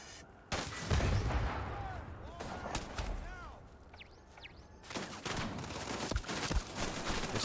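Turret gunfire in Starfield, heavy bursts of shots in two clusters with whining energy tones and a quieter stretch between, loud and close.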